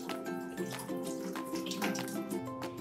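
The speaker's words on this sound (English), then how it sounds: "step on the foot pump to rinse your hands" Water streams from a foot-pump hand washing station as hands are rinsed, a steady splashing flow with dripping over about three seconds, with no talking.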